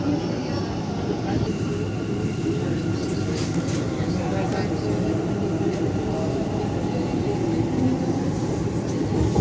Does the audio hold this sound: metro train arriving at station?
yes